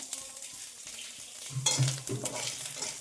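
Crushed ginger dropped into a hot frying pan for a spicy home-style dish, bursting into a loud, close sizzle after a quiet start, then settling into steady frying with light stirring.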